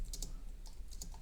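Code being typed on a computer keyboard, a few quick close key clicks in two small bursts over a faint background hum.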